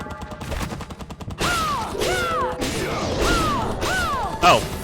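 A flame cannon fires in Bloodstained: Ritual of the Night, loud repeated whooshing blasts with falling tones after a rattling lead-in, ending in a sharper burst.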